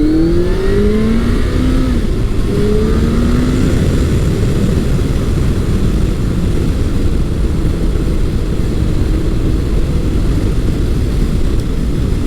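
A Kawasaki Concours 1400 sport-touring motorcycle accelerating on the road, engine tone rising in steady pulls under constant loud wind rush, no talking.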